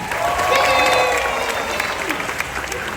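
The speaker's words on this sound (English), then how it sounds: "Let's give a big round of applause for Serena Arvizo, everybody." A theme park anniversary ceremony crowd at Disney's Hollywood Studios bursts into loud, sustained applause with cheering, a dense wash of clapping that holds steady throughout.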